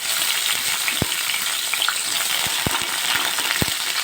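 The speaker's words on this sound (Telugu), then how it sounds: "ఇక్కడైతే అదే ప్యాన్లో కొద్దిగా ఆయిల్ వేసేసి అన్నీ మగ్గించుకోవాలి." Onion, tomato and green chili sizzle steadily in oil in a pan, a loud continuous frying hiss with a few short clicks of a utensil against the pan scattered through it, and no voice.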